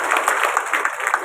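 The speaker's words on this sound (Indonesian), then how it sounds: "tepuk tangan untuk Pak Edi" An audience of traders at an Indonesian parliamentary outreach gathering applauds for Pak Edi Prabowo, a dense, steady wash of clapping that fills the short moment without pause.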